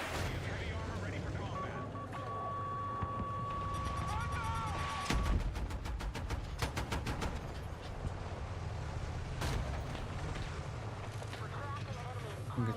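A vehicle-mounted gun fires in Battlefield 6, with a rapid rattling burst in the middle over a constant roar of engine and battle noise and some brief voice chatter.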